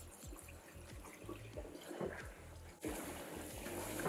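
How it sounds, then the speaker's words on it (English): Running water rinsing dye out of hair, a soft continuous trickle and splash, faint and close, with no voices. "I'm gonna keep rinsing"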